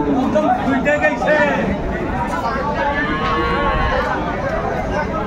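Dairy cows at a Chattogram farm selling improved-breed milk cows and calves, mooing in drawn-out calls amid steady crowd babble and nearby people talking throughout.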